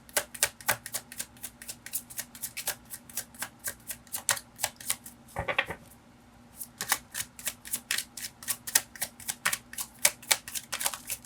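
Tarot cards being shuffled by hand: a fast, steady run of crisp card slaps and riffles, close and fairly loud, with one brief softer rustle midway before the rhythmic shuffling resumes.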